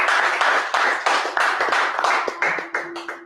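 A church congregation claps in rhythmic unison, a dense run of sharp hand claps that stays steady and fairly loud throughout, with a faint sustained tone entering near the end.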